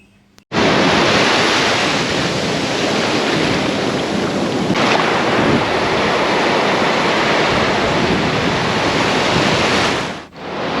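Ocean waves breaking on a seashore at sunset, a loud, continuous roar of surf with wind buffeting the microphone and no voices.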